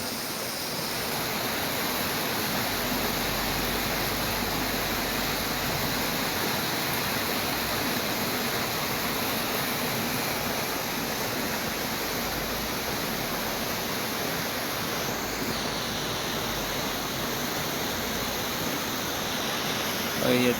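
Swollen, muddy Mata Allo river after heavy rain, rushing swiftly past; a steady, dense broadband roar of fast water runs unbroken throughout, loud and close.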